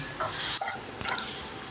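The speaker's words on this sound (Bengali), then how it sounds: "পেঁয়াজটাকে আমি হালকা করে ভেজে নেব" Chopped onion fries in a pan for rava idli. A close, constant sizzle is broken by a couple of scraping stirring strokes, with no voices over it.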